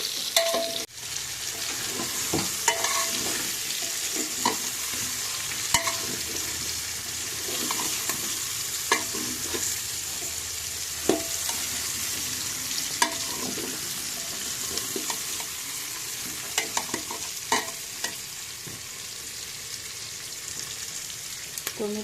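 Stuffed brinjals stirred and frying in oil in a pan, giving a steady sizzle throughout with repeated scraping and clacking of a spoon against the pan, close and fairly loud.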